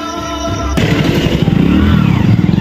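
A motorcycle engine starts and then runs in a steady, throbbing idle, close and fairly loud, after a brief stretch of quieter background sound at the start.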